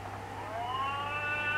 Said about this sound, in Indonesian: Ini malah azan